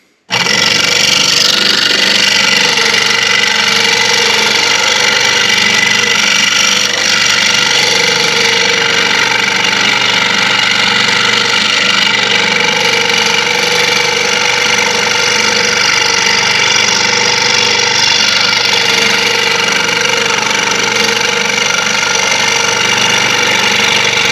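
An old Sears Roebuck scroll saw runs steadily and cuts, a loud continuous motor drone with a reciprocating buzz holding even for the whole stretch, with no voices.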